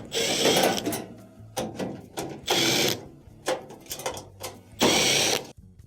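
Phillips screws being backed out of the rear panel of a range oven, heard as several short bursts of whirring, ratcheting driver noise separated by brief pauses, close and fairly loud.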